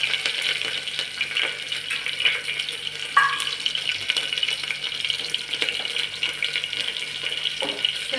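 Chilli pieces frying in a pan for Marathi khichdi, a steady close sizzle and crackle with a faint clink of stirring partway through.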